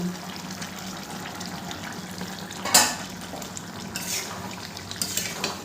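Jackfruit and potato curry is stirred in a pot on a medium gas flame, with soft bubbling simmer, scraping spoon strokes and a few sharp clinks of utensil against the vessel.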